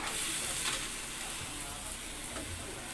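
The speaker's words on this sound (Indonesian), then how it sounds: "tumis daging, cabe, tomat." Meat stir-fried in a pan with chili and tomato, a steady broadband sizzle and frying hiss with faint stirring scrapes throughout, close and continuous.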